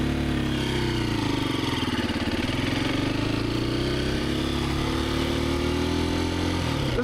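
A Husqvarna FE350S motorcycle engine idles with an even, steady low throb, close and continuous with no talk.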